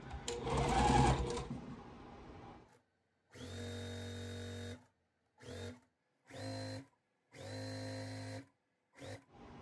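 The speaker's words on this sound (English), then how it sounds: "now we're going to sew this side on" A sewing machine stitches the side of a quilt block in several close, steady runs of whirring, each stopping and starting again with short silent pauses between them.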